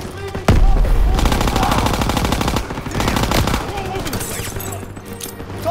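Loud, rapid machine-gun fire in a Call of Duty WWII battle, long rattling bursts close by that start abruptly and keep going with only brief breaks, a voice speaking briefly beneath the shooting.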